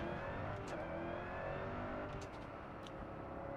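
Car engine in the racing game Test Drive Unlimited Solar Crown, revving steadily with a continuous strong drone and whine that barely lets up, heard alone without talk.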